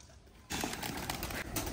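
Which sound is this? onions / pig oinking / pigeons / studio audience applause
pigeons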